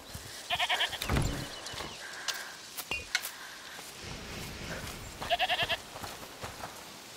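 Goat bleating in A Plague Tale: Requiem, two bursts of short wavering bleats heard at a modest distance, separated by quieter game ambience with scattered clicks and thuds.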